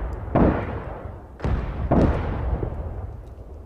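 Anti-aircraft artillery firing in DCS World: three heavy booming shots a second or so apart, each rolling off into a long rumbling tail over steady low background noise.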